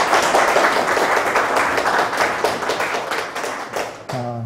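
A church congregation applauds in welcome for a visiting pastor, with dense, steady clapping from many hands that fades slightly toward the end before a voice begins.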